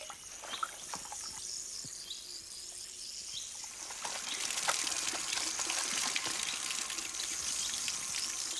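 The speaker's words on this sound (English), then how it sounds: "You ought to be careful with that soapy shower of yours." Steady spraying water hisses continuously, growing a bit louder and fuller halfway through, with faint drips and splashes mixed in.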